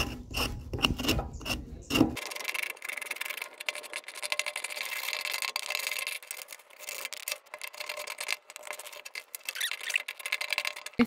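A sharp-edged tool rasps steadily across the skin of a tapara gourd. The scraping is dry, close and continuous, with a few louder knocks at the start.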